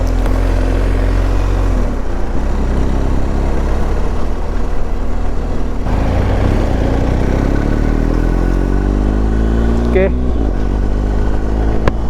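A BMW R1250 GS Adventure motorcycle engine runs at a steady idle with a few revs, loud and close, while someone talks over it.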